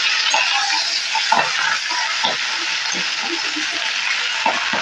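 Pea greens (motor shak) stirred and frying in a pan, with a steady close sizzle and scattered scraping, clinking stir strokes throughout.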